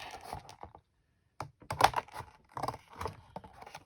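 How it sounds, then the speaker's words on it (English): Regular scissors cutting through cardboard close up, a run of crisp snipping and crunching bursts after a short pause, irregular in rhythm, with no voices. "I have a regular scissor. I'm just going to cut the cardboard."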